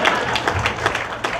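Crowd clapping at a live comedy contest, with uneven, loud claps rising and dipping in a short burst from the audience.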